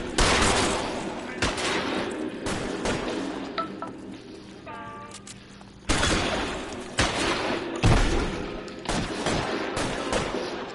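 Gunfire in L.A. Noire erupts in repeated bursts and single shots, loud and close, with brief pauses between volleys and some game speech mixed in.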